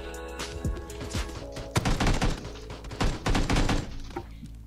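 Rapid bursts of gunfire from the PUBG battle royale video game, loud and close, with repeated volleys and shots firing almost continuously across the whole stretch, no talking.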